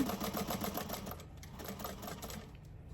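A home sewing machine stitches across a fabric tote bag and its label, a quick, close, rhythmic mechanical chatter that runs for about a second, then thins to quieter intermittent clicks.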